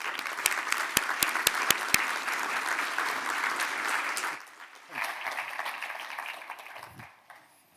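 A conference audience applauds to welcome a keynote speaker to the stage, a loud and steady clapping that carries on for about four seconds and then fades to scattered claps and room noise.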